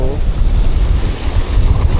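Choppy sea waves wash against the jetties at Freeport Surfside, a loud, continuous rush of water churned by heavy wind buffeting the microphone, with no voices.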